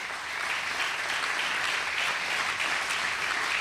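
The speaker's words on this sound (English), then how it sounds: "a warm applause, a loud applause for Sri Sri Ravishankar Ji" Dense, sustained applause from a large audience at a United Nations yoga event for Sri Sri Ravishankar, a continuous wash of many hands clapping at even loudness throughout, with no speech over it.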